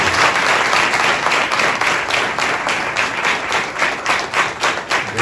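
A church congregation claps in praise during a Marathi Christian worship session, a loud, close burst of many hands with a faintly pulsing, rhythmic quality that rises and dips steadily throughout, without anyone speaking over it.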